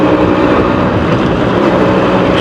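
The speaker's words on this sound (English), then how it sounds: "I'm full throttle. Now it's waking up." Suzuki AX100 motorcycle engine held at full throttle, a loud, steady, buzzing drone that stays constant through the short stretch.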